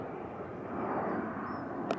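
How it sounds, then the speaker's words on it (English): An aeroplane taking off from East Midlands Airport rumbles as a distant, steady low drone on a countryside hiking path, swelling slightly midway with a brief bird chirp near the end. "An aeroplane there taking off from East Midlands Airport"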